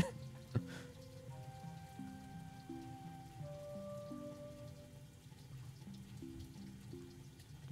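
Steady soft rain patters through a Stardew Valley spring day, a continuous light hiss beneath the game's tonal background music, with no voices.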